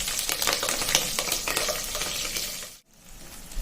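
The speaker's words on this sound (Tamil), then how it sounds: "வெங்காயம், பச்சை மிளகாய் போட்டு வதங்கிருச்சுங்க." Onions and green chillies sauté in a pan with whole spices for tomato rice, a dense, close, steady sizzle with stirring clatter that cuts off abruptly near the end.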